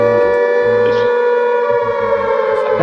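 A siren sound effect wails steadily and loudly throughout, its sustained tones dominating with a slight rising and falling pulse and no talk over it.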